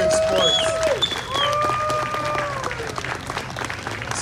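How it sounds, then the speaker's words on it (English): An audience applauds at a festival performance, with scattered clapping and a few cheers, while sustained whistle-like tones rise and fall over the crowd noise. "Let's give them a round of applause for being such good sports."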